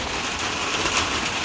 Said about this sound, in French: Là, il y a la pluie.